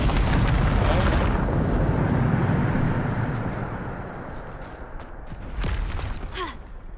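A Bombarda blasting spell goes off in the Hogwarts Legacy video game, a loud, sustained roaring explosion that gradually fades into a rumbling tail, with a brief sharper burst near the end.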